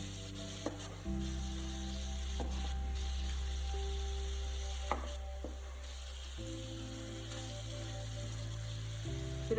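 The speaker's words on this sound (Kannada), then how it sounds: "ಉಲ್ಟ ಮಾಡ್ತದೆ ಫ್ರೈ ಆಗೋದು ಶೋಕು." A chicken steak frying in a pan just after being flipped, giving a soft, steady sizzle that runs continuously throughout, with a few faint clicks and taps.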